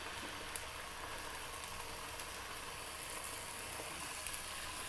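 Steady sizzle of a thick piece of chicken frying in a skillet over medium heat, a continuous crackling hiss with faint pops throughout, fairly quiet and without voices.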